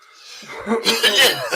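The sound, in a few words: coughing fit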